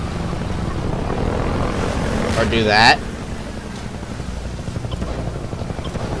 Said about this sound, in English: Holy crap, that's a helicopter.